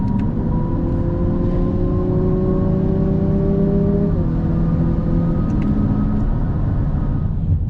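A 2023 Lexus UX250h hybrid revs in Sport Plus mode with active sound control on, giving a steady droning engine note whose pitch holds, then steps down about halfway through as the gear or throttle shifts; loud and continuous, with no talk.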